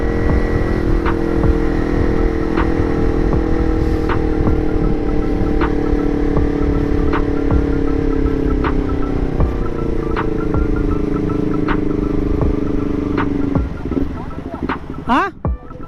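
An upgraded motorcycle engine droning steadily while riding, a loud sustained hum with slight pitch shifts and wind rush, rising briefly near the end, heard close with talking over it.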